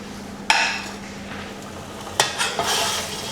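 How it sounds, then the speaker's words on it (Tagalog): Onions and chilies are stirred into simmering chicken tinola, with a couple of sharp spoon-against-pot clinks over a low steady bubbling hum. "Mix lang natin."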